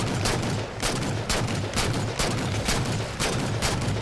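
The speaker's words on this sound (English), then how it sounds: "I think that's a scattergun he's using." Dense, continuous shotgun-style scattergun fire in the Halo 4 campaign, rapid overlapping blasts and explosions filling the whole stretch at loud, steady level with no talk.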